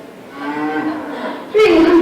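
Cows on a 300-cow dairy farm moo close by, first a long, wavering low call, then a sudden, louder, steadier moo cutting in at the end.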